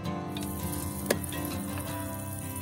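Butter, two 10 g pats, melting and sizzling in a pan for abalone rice porridge, a steady close frying hiss with one brief sharp crackle midway.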